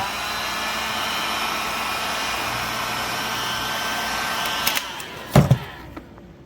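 A heat tool blows a continuous whooshing hum while warming yellow fog light film on a Honda Element, ending with a few handling clicks and knocks as it shuts off.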